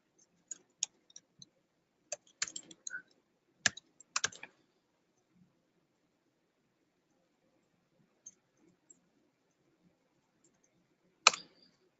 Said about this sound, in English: so I'm just going to quickly type it out here.